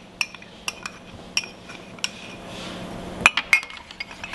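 A utensil stirs ginger, whole grain mustard and sorghum into baked beans in a pot, with a series of sharp metallic clinks at an uneven rhythm and a soft scrape between them, close by.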